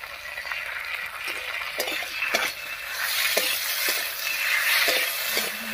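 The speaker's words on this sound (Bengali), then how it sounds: "আলুটা বেশ একটু ভাজা ভাজা মতো হয়ে গেছে, এবারে আদা রসুন আর লঙ্কা বাটাটা দিয়ে দিচ্ছি।" Potatoes frying in a pan as ginger, garlic and chili paste goes in, producing a loud, steady sizzle with occasional stirring scrapes and clicks throughout, close and continuous, with no voices.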